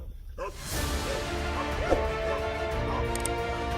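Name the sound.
dogs barking at a Komodo dragon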